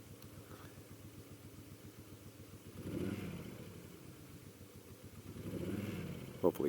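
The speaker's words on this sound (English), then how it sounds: "Hopefully you guys can hear that motor a little bit. It's definitely a V-twin." A 1999 Moto Guzzi California V11 EV V-twin motorcycle idling nearby, its low steady thrum swelling twice as the throttle is blipped, with someone talking over it.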